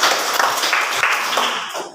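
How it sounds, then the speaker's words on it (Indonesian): Applause for a presenting group in a classroom: a dense burst of hand clapping from many students, loud and close at first, then thinning and fading out near the end. "Bisa tepuk tangan untuk kelompok"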